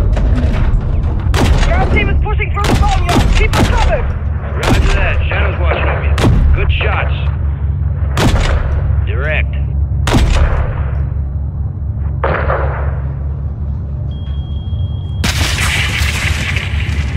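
Video game gunfire and explosions from a Call of Duty Modern Warfare 3 air-support mission: loud booming blasts and sharp shot bursts land one after another at irregular intervals over a constant low rumble, with radio chatter mixed in.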